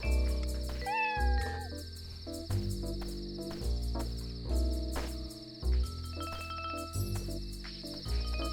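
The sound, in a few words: cat meowing in the video game Dave the Diver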